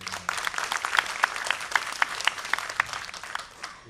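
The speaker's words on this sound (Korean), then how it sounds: "위로 박수 한번 더 보내주세요." An audience at a political party youth and women members' talk concert claps in sympathy, a moderate, fairly close round of applause with distinct individual claps throughout that thins out near the end.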